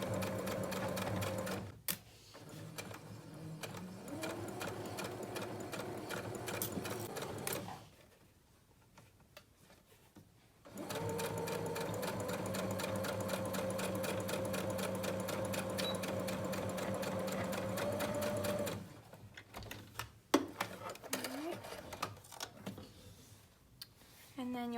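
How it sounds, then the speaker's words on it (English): Sewing machine stitching a quarter-inch seam on a medical mask, fast steady needle rattle in long runs broken by two pauses, with brief clicks and soft handling noises between. "And you'll sew down this at 1/4 of an inch seam allowance."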